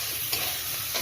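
Spices sautéing with meat in a pan give a dense, loud, continuous sizzle, close up, with a couple of faint stirring scrapes and no voices.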